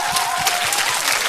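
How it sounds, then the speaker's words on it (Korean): Brief burst of audience applause at a Korean music show, dense, close clapping filling about a second with a faint crowd murmur beneath. "여러분 박수 한번 주세요"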